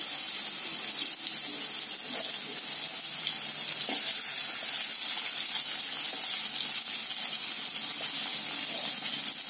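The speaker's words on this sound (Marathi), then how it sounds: "कापून घेतलेली कैरी मी या ठिकाणी घालणार आहे तेलामध्ये" Chopped raw mango hitting hot oil seasoned with asafoetida and turmeric, a steady broad sizzle that holds evenly throughout with a brief louder surge midway, close and alone without talk.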